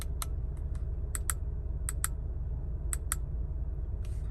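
Buttons on the multi-function steering wheel of a 2021 Audi Q3 click in a series of sharp, close taps: single clicks and quick pairs at irregular intervals over a steady low cabin hum, with no talking.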